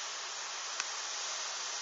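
Strong gale winds from Storm Hans in Tour-en-Sologne, heard as a steady, loud broadband rush without pause, with one brief click partway through.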